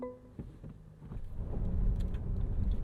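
A Mercedes-Benz G 580 performing a G-turn tank turn, its electric drive rising from a quiet start into a steady, building low rumble with faint clicks and scuffs, alone and without talk.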